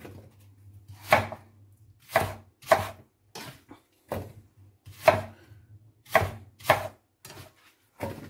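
A knife chops a red bell pepper on a cutting board in irregular sharp strikes, single and paired, close and crisp with quiet pauses between, no one talking.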